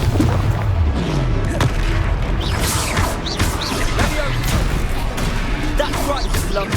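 Explosive Confringo spell blasts in the Hogwarts Legacy video game during combat, with booming impacts, crashes and crackling debris over a dense game soundtrack, with voices shouting amid the action.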